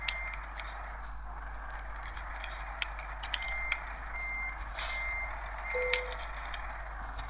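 A truck in Euro Truck Simulator 2 backs into a parking spot, its reversing alarm beeping in a steady repeating pattern over a constant low engine hum.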